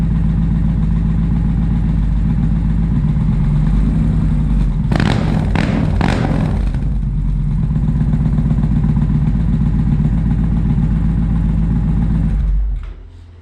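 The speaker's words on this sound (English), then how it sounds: "I'll just give it a couple quick flips of throttle so you can hear it" An Indian Challenger motorcycle with a Toce exhaust idles steadily, then gets a few quick throttle blips that flare loudly around the middle before it settles back to idle and cuts off.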